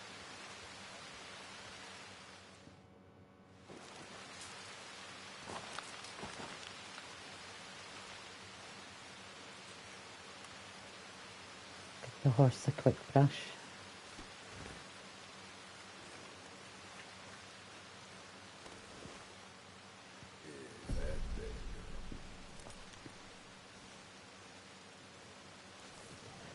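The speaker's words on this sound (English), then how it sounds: "this constant bloody rain every time I want to do something" Steady rain hisses throughout at a low, even level in the video game Red Dead Redemption 2, with a few brief clicks and a muffled thump partway through; a voice speaks briefly.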